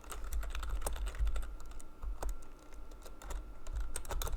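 Code is typed on a computer keyboard in quick, uneven bursts of close, crisp keystrokes, with a few short pauses in between and no speech.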